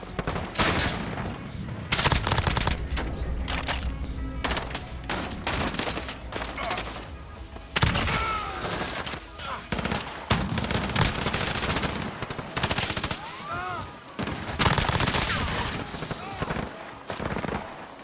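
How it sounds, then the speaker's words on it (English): SMG hip-fire gunshots in Call of Duty Warzone, repeated rapid bursts of automatic fire with brief pauses, loud and close, under a player talking. "Get those decent long range SMG hipfire kills."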